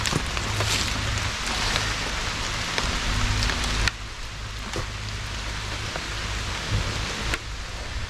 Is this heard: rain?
yes